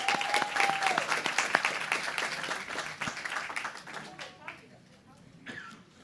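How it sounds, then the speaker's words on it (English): An audience at a poetry slam applauds, with loud, dense clapping that thins and tapers off, leaving scattered claps and murmured voices; a whistle rings out near the start. "Won't you welcome her with a round of applause?"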